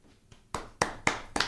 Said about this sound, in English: Yeah, I'll clap for myself.